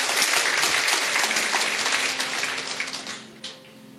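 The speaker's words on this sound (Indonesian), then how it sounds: "Mari kita beri tepuk tangan untuk Tuhan." A church congregation claps together in a dense, loud burst of applause that holds steady, then fades away over the last second.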